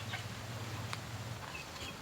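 Chickens cluck at a distance in a farmyard where ducks and chickens are raised together in one shared pen alongside turkeys, a few brief calls over a steady low hum.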